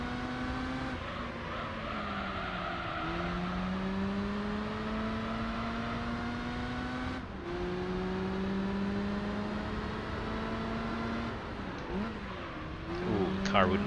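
Racing engines of Japanese-market cars in Gran Turismo 3 career mode, a close high-revving drone climbing and dropping through gear shifts, with another car following behind, continuous and moderately loud.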